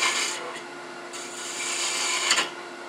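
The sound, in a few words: woodturning tool cutting wood ornament on lathe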